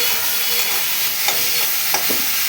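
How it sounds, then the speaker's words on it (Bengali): Potato and jackfruit frying in a pan, a loud steady sizzle with scraping stirs and a couple of short clinks from the spoon against the pan, heard up close without speech. "এবার ভালো করে ভেজে নেব, ভালো করে ভেজে নিচ্ছি।"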